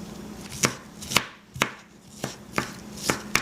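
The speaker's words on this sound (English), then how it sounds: "We're going to take one shallot, and we're going to cut it. We're going to mince it in small pieces." A knife chops and minces a shallot on a cutting board, giving about eight sharp, evenly spaced chops that ring out alone against a quiet background.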